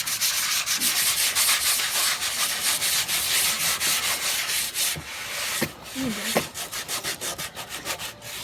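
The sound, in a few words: sanding a wooden skateboard deck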